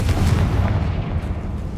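Confringo explosion spell cast in the video game Hogwarts Legacy: a dense, loud, rumbling blast with heavy low-end booming that sustains throughout, with no voices.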